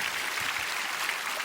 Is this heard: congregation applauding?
yes